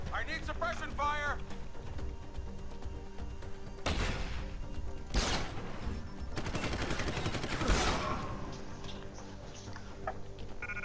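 Rapid gunfire from a firefight in the stealth-action video game Deus Ex: Human Revolution, with several loud bursts over a dense, continuous battle din while voices shout over it.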